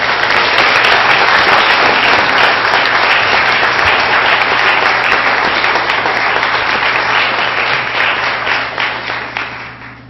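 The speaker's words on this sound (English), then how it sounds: "a round of applause for our spellers" A loud, full round of applause from a spelling bee audience for the spellers, sustained and even for most of its length before tapering off at the end.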